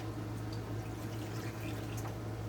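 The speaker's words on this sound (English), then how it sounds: "I'm just going to add just a tad bit of water to this" Water poured into a hot pan of onions to steam them in a homestead kitchen, a faint continuous liquid hiss and trickle over a low steady hum, with no talking.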